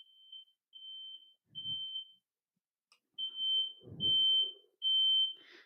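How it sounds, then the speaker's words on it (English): A household smoke alarm, set off by freshly lit incense, sounds a series of shrill, steady beeps in a regular on-off rhythm, fairly loud indoors, with a few low thumps between beeps. "Oh, there goes the fire alarm."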